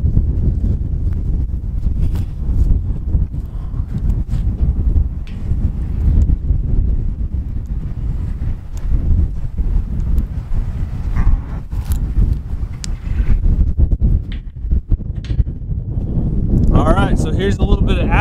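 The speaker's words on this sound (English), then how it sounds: "It's really windy out here" Strong wind buffets the microphone in a steady low roar, with a few rattling bumps and a rising gust near the end.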